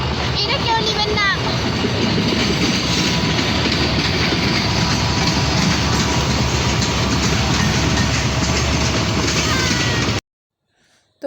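A train rolls past close by at a railway station, loud and continuous with rhythmic clickety-clack from the wheels, a few squeals and voices mixed in, then it cuts to near silence at the end.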